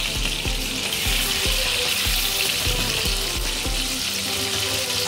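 Ginger garlic paste hits a hot pan and sizzles steadily, a bright continuous hiss, with a few faint low knocks of utensils under it and no talking.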